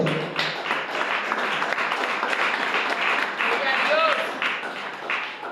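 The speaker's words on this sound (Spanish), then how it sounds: "Denle un fuerte aplauso al Señor." Church congregation applauding together in steady, dense clapping that fills the space throughout, with voices and cheers mixed into the crowd.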